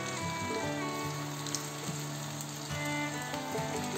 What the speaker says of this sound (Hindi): इसको लाइट ब्राउन होने तक हमें फ्राई करना है